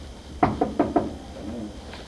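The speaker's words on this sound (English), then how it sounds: "As always, we're going to start with a knock on the door." Four quick, evenly spaced knocks rap on a door, close and distinct against a quiet room, followed by a brief soft sound.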